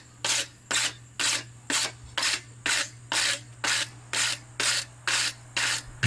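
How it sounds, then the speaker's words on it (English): A wire brush scrubbed across a hand-forged steel wizard figure after heating, twelve evenly spaced raspy strokes in a steady rhythm, close and distinct, over a faint low hum. "then I'm going to give him a heat and brush him off"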